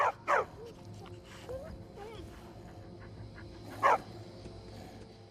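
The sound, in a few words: dog barking in the video game Skyrim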